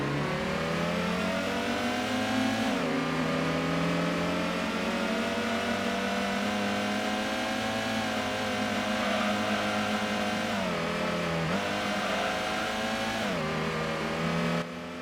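A Toyota Supra race car in the original Gran Turismo game revs hard and continuously, its loud engine note climbing and then dipping at about three gear shifts, with no voices.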